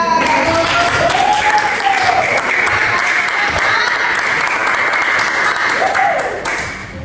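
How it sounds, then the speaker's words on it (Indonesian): A classroom of students applauds a student group after its presentation, steady dense clapping filling the whole stretch and tapering slightly at the end, with voices faintly mixed in. "Betul, jadi tepukan."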